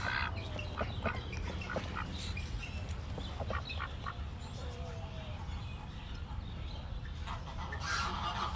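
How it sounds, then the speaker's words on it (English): Call ducks and Pekin ducks on a farm quacking repeatedly in scattered, overlapping calls at close to moderate distance, over a steady outdoor rumble, with some talk in the background. "we will be talking about the Pekin ducks and also the call ducks that we have here on the farm"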